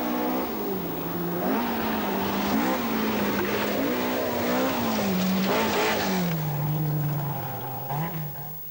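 A Talbot rally car with crumpled bodywork races along a special stage of the 1980 Scottish Rally, its engine note rising and falling steadily through gear changes, loud and close for the whole stretch before easing slightly at the end.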